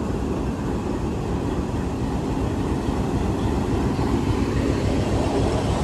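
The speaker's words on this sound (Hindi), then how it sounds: "फाइनल डिपार्चर विसल के साथ तकरीबन 5 से 6 मिनट रुकने के बाद निकल रही है हमारी 18 डाउन मिला था एक्सप्रेस" Millat Express passenger train pulling out of Mandi Bahauddin railway station after its final departure whistle, a steady loud rumble of wheels and coaches rolling continuously and close by, with no talk over it.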